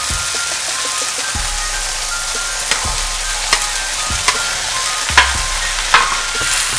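Vegetables and softened tomatoes sizzling in a pan for rava kichadi, a steady hiss broken by a few distinct stirring knocks and scrapes, close up and with no talking.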